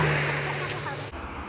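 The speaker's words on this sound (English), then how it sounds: "But I'm gonna wait till that car go by too." A car driving by on a neighborhood street, a broad steady motor wash close by that fades out after about a second, with voices talking over it.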